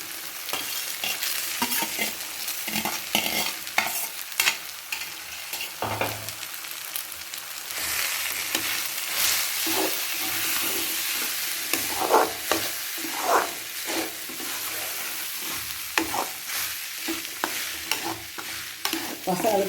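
Cooked leftover rice is stirred into sautéed mint in a frying pan for pudina rice, with steady sizzling and repeated scraping stirs that stay close and fairly loud throughout.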